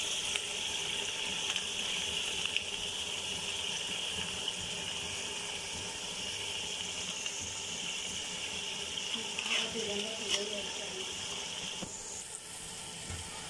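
Water runs and splashes steadily into a cooking pot for dumba pulao, a continuous gushing pour at moderate distance with faint background clinks.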